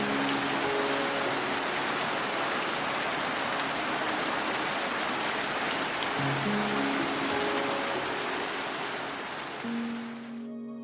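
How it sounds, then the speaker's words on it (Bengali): Steady, dense rain falls throughout as a sound effect in a Bengali audio drama, with faint background music tones beneath, before cutting off abruptly at the end. "আমি রিমাকে দেওয়া কথা রাখতে এই মাঝ রাতে দরজা খুলে বাড়ির বাইরে বেরিয়ে এলাম বৃষ্টিতে ভেজার জন্য।"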